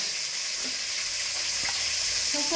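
Fish frying in hot oil in a home kitchen, a steady close sizzle running throughout with no talk.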